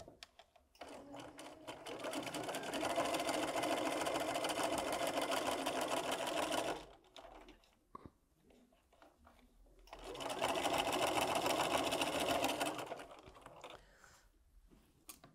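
A sewing machine stitches quilt pieces together with a quarter-inch seam, running in two steady whirring bursts of several seconds each with a quiet pause between, close and clear.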